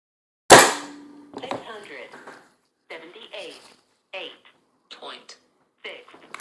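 A single sharp crack from a Crosman Trail Hawk .177 Nitro Piston air rifle firing, loud and close, followed by someone talking.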